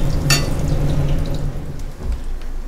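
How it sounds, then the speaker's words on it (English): Silver fish fritters (okoy) frying in a pan and basted with hot oil, a close, steady sizzle with a sharp spoon scrape early on and scattered pops and drips, no talking. "Now I'm just baiting the top of the okoy with hot oil para madaling maluto."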